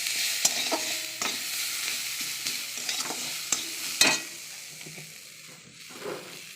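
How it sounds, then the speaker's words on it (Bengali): Onion, ginger and garlic fry in oil with panch phoron and green chilli in a wok, a steady sizzle broken by repeated scraping stirs and clicks, ending with a brief louder hiss near the end. "কড়াইয়ের মধ্যে তেলে পাঁচফোড়ন কাঁচা লঙ্কা দিয়ে তারপরে পেঁয়াজ আদা রসুন বেশি দিয়ে দিলাম"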